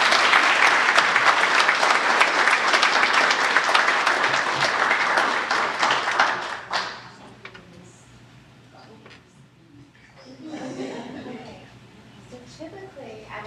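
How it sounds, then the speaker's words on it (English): Audience at a school board meeting giving another round of applause, loud continuous clapping for about seven seconds that then stops abruptly, followed by quieter room sound and a voice speaking. "Give them another round of applause."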